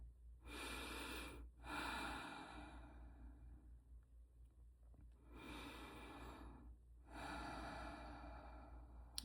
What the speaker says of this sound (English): So just close your eyes and take a few deep breaths.